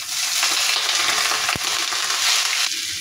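Water spinach is dropped into hot oil with fried onion and garlic, setting off a loud, steady sizzle that hisses continuously, with a brief thump as the greens land and slight stirring rustles.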